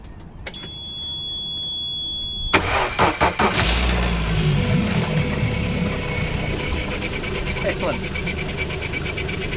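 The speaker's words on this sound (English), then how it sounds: "We'll switch it to on. We should be able to get this motor started." A boat motor cranks briefly and then catches, settling into a loud, steady, rapidly pulsing run close by, with a short spoken remark over the engine.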